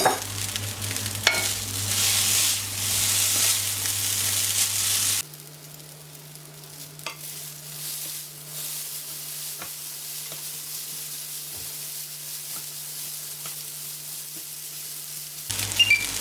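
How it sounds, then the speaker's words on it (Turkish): Noodles fry in oil in a pan while they are stirred, a loud, steady sizzle with scraping that drops to a quieter simmer partway through and surges again near the end, with no talk. "Kızarmış makarna da denir buna. Böyle kızartılarak yapılır yağda."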